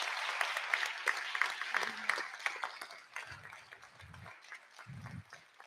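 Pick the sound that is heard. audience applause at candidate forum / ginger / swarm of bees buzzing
audience applause at candidate forum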